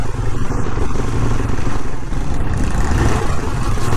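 A motorcycle being ridden through the hill town of Manali, its engine running close and loud with a continuous throbbing drone and slight rises in revs.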